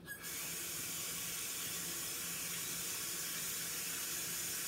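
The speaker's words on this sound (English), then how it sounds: "And wash my hands off." Tap water runs steadily into a sink while hands are washed with reused soap, a constant close hiss and splash that starts abruptly and continues without talking.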